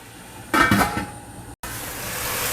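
A lid set down on a cooking pot while stir-frying ginger and garlic in a home kitchen, giving a short clattering metallic burst followed by a brief dull clink, with quiet room tone around it.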